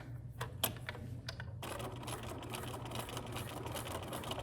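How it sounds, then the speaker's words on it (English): Sewing machine stitching across a fabric-covered dog leash: a few light clicks, then a steady, close mechanical whir that runs without a break to the end. "I'm gonna stitch across."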